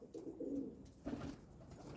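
A pet male pigeon coos softly at close range, giving two low, rolling coos with a brief pause between them against a quiet background.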